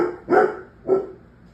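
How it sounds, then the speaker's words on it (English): A dog barks twice indoors, two loud separate woofs about half a second apart, with quiet room tone in between. "Sorry, that's my dog."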